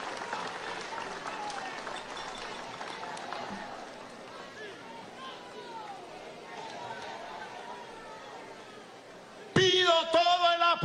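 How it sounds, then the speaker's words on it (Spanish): Subdued, hesitant applause from a crowd at a Venezuelan political address on corruption, thin clapping and murmuring that fades before a speaking voice cuts in near the end. "Fíjense que los aplausos son como medio tímidos"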